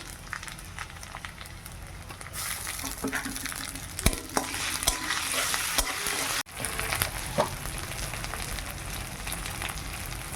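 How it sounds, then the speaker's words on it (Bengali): Onion with a ground paste of ginger, garlic and cumin frying in hot oil, a steady loud sizzle with scraping stirring strokes and a brief dip partway through, no talking. "গরম হয়ে গেছে, এবার পেঁয়াজটা দিয়ে দেব। আদা রসুন আর জিরে বাটাটা দিয়ে দিলাম।"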